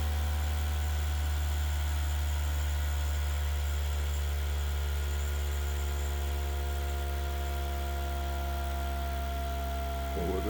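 A homemade pulse motor winds down after running at around 5,100 RPM, giving a steady close electric whine with layered tonal hum and a low drone that holds through the clip, ending in a brief rattle.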